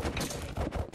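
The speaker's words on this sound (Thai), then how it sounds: "ทำไมเสียงยิงธนูมันเป็นเสียงแบบนั้นล่ะคะ" Several overlapping bow-shot skill effects fire in an online game boss fight, a dense burst of sharp, crackling impacts stacked together over about a second, loud with no talking.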